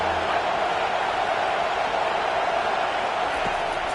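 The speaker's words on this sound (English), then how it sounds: "Decibels rising as the crowd gets behind this defense on third down." A football stadium crowd roars steadily on a third down, a dense, loud wall of noise with a broadcast voice faintly underneath.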